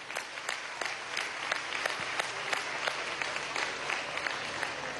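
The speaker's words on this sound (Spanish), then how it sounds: "Un aplauso a las parteras." Crowd at a political rally in Venezuela applauding the midwives, moderately quiet clapping from many people with some individual claps standing out, held steady throughout and with no voices over it.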